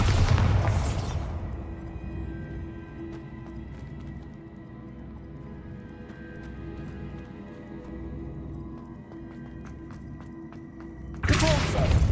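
A Bombarda explosion spell in Hogwarts Legacy lands as a short, loud, booming burst, followed by a long quiet stretch of faint ambience, then a second abrupt blast at the end.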